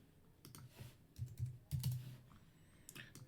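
Typing on a computer keyboard while entering text into a client portal setup, producing irregular bursts of soft key clicks at close range with short pauses between, alone without talk.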